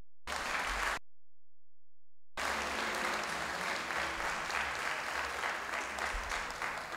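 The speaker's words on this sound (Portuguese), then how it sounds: "Você pode aplaudir, gente?" An audience at a tenth wedding anniversary celebration claps and cheers in a brief burst, falls silent, then breaks into longer, steady applause from a room full of people.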